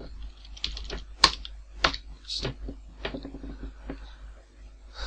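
Someone types on a computer keyboard in short, irregular bursts while building a calculator in C#. The key clicks sound close, with a few sharper strikes, over a low steady hum, and no one talks.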